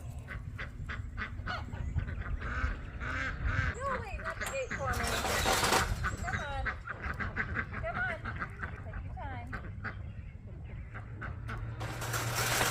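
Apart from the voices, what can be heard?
farm birds calling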